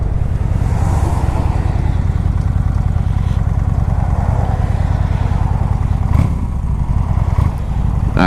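A 2012 fuel-injected Honda Shadow 750 motorcycle is ridden, its engine giving a loud, steady low rumble close up with wind and road noise throughout.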